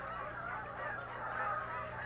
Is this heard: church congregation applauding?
no